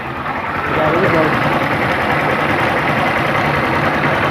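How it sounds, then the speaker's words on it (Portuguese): A Honda 160 motorcycle idles in neutral with a worn clutch bearing behind the clutch basket, giving a loud, steady, close engine rumble with a rough, knocking vibration throughout. "Vibrou. Vou saber, tá vibrando a embreagem. Rolamento atrás da campana da embreagem."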